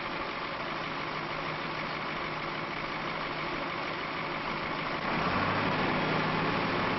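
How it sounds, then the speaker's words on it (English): A vehicle engine idles steadily while warming up, a continuous close rumble that rises slightly in level and deepens toward the end. "While he waits for the engine to warm"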